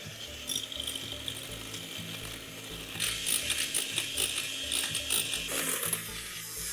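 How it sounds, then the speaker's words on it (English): An electric mixer beats egg whites to stiff peaks with a steady mechanical whir and a rhythmic, ratcheting gear clatter. The sound grows noisier partway through. "I'm going to beat the egg whites to stiff peaks."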